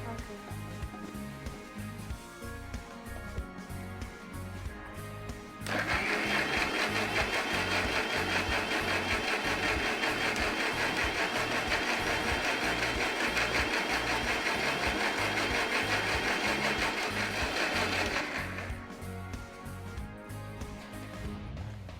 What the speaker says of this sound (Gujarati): હવે આપણે આને બ્લેન્ડ કરી લઈશું